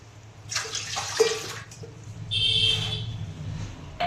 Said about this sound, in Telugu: ఇందులో 2 గ్లాసెస్ వాటర్ వేసుకోండి